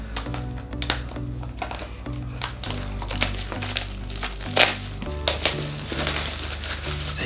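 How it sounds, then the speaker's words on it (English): Scissors cutting into the cardboard packaging of a Xiaomi Mi A3 phone box, close crinkling, snipping and scraping in irregular bursts, fairly quiet and without talk. "I'm trying to get into this with a pair of scissors."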